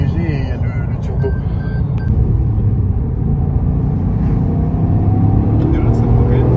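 Turbocharged Toyota Yaris GR accelerating, a loud, steady engine rumble heard from inside the cabin that builds gradually, with people talking over it.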